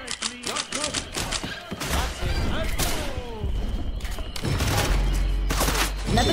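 Rapid bursts of gunfire from the zombie shooter Left 4 Dead 2 crackle and thump in dense volleys throughout, with in-game character voices calling out over the shooting.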